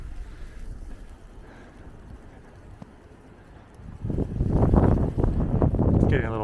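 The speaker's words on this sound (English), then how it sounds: "It's getting a little windy." Wind gusting through snowy downtown Boston near Boston Common, a low rushing blow that swells and grows louder toward the end, with a voice speaking briefly over it.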